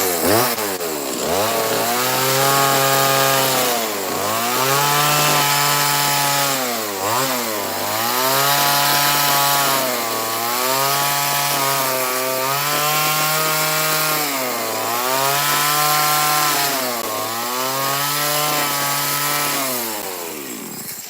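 A chainsaw carves lines into a standing wooden tree. The engine revs up and eases off in repeated surges of a loud, close, rasping whine, with no talk.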